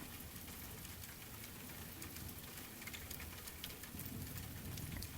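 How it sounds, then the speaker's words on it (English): Rain patters on a roof as a steady, soft hiss of dense drops, faint and even throughout with no voices. "raindrops patter against the roof."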